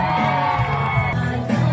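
A crowd at a public event for Caloocan Mayor Along Malapitan cheers and whoops loudly and continuously, with shouts and applause blending into a dense, close roar.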